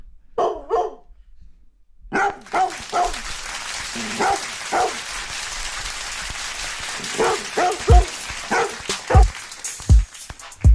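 Dogs bark loudly and repeatedly as a sound effect played for a livestream donation, starting with a couple of close barks and then a busier stretch with sharp, punchy barks near the end.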